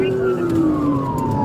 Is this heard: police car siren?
yes